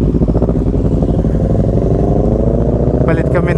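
A Kawasaki ER6n motorcycle engine runs loud and close with a steady throbbing idle that rises slightly in pitch, and a brief rattle near the end.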